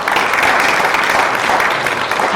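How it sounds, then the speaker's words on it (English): Loud, full applause from a university conference audience thanking the organizing committee, a thick, unbroken wash of clapping with no voices over it. "let's together give them a big round of applause"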